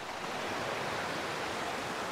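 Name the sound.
waterfall rushing in a forest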